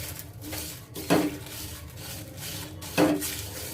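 A thick-bottomed metal pan for roasting garam masala spices gives two distinct metallic clunks as it is handled and set down on a stove, with quieter kitchen rustling between them.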